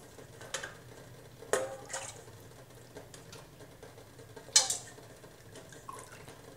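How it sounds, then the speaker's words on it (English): Hot water scooped from a KD5 hydrosol maker while distilling peppermint, heard as a few soft, scattered splashes and light metallic clinks in a quiet room. "scoop up the hot water"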